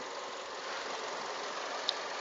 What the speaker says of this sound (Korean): 엔진 소리는 자체는 뭐 크게 나쁜 건 없습니다.